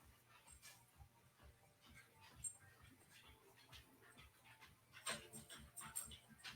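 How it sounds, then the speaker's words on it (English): A pet puppy dog pants faintly in the background, with soft, quick, steady breaths repeating at a low level and a few brief louder snuffles near the end. "that's my beautiful puppy dog in the background, Miss Ira."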